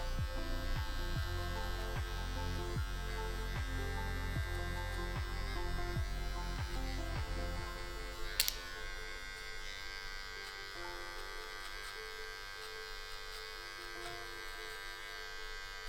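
Electric hair clipper buzzing steadily close by during a skin taper mullet haircut, with a rhythmic pulsing for the first half and a smoother hum after a brief click.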